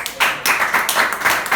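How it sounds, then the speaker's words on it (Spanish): A church congregation bursts into bursts of clapping during a sermon, close and fairly loud, the applause rising in several uneven waves over a short stretch. "Vamos a darle un aplauso a Jesús"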